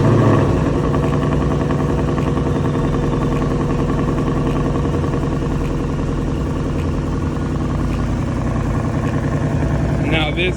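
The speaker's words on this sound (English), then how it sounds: "let's hear the active stock exhaust for the last time" A 2019 Mustang GT with its stock active exhaust rumbles at close range on a rainy day, a loud, steady, deep burbling idle with rattly texture that holds for the whole stretch.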